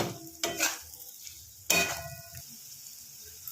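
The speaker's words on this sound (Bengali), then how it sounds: "এবার এটা একটু ভাজা হয়ে গেলেই সঙ্গে সঙ্গে আমি এতে কিন্তু জল দিয়ে দেব" Dalia stir-fries in a pan, with two bursts of scraping and stirring that each set off a brief sizzle, separated by quieter gaps of low frying noise.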